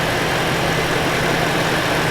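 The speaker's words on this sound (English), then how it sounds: "Car's been sitting here warming up." A BMW E92 M3 engine idles while it warms up after a rod bearing replacement, giving a steady, loud, low rumble with no change in pace across the short span.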